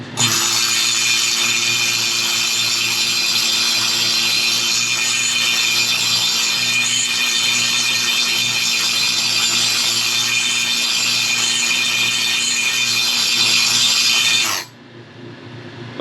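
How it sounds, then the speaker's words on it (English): Shot peening a fresh weld on a Ford 8.8 rear axle: a loud, steady, harsh metallic buzzing rattle runs without a break for about fourteen seconds, then cuts off suddenly to quieter background. "Now we'll shot peen it a bit."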